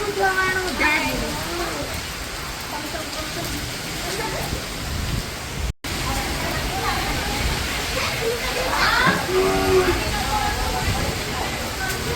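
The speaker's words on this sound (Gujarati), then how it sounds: "વરસાદ એને એમને એમ શરૂ છે પવન બહુ જ છે" Heavy rain with strong wind forms a loud, steady hiss throughout, close and constant, while people talk over it now and then.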